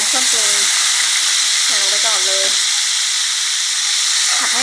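Chilli and garlic stir-frying in hot oil for Thai pad kaprao with sun-dried pork, a loud continuous sizzle and hiss that stays steady throughout, with a voice speaking over it in short phrases.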